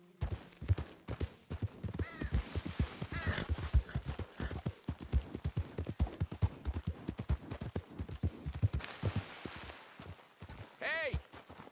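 Horse hooves clip-clop rapidly in Red Dead Redemption 2, a continuous galloping rhythm with a rider talking over it and a short whinny-like sound near the end.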